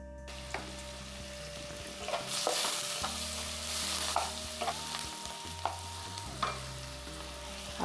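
Mustard seeds, cumin, green chili and onion fry in hot oil for poha upma, a soft continuous sizzle broken by occasional spoon scrapes and taps, with a low steady hum running underneath.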